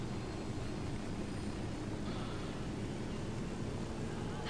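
Steady, low, droning rotor and engine rumble of a helicopter in the video game Ghost Recon Wildlands, fairly quiet and constant without breaks.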